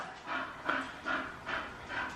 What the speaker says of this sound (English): Apologies for the dog panting, obviously it's a hot day, so he's panting.